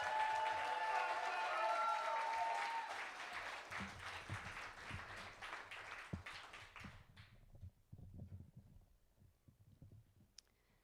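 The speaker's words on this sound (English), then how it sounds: "Let's start clapping for Eden." Audience applause at a poetry slam in Canada, a dense crowd roar of clapping that fills the first seconds and then thins to scattered claps, thumps and low murmur as it dies away.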